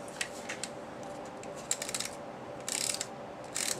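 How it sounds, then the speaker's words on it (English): A snail tape runner applying adhesive to a stamped card, giving faint, quiet ratcheting clicks in a few short bursts over a steady low background hiss. "Gonna take our snail runner"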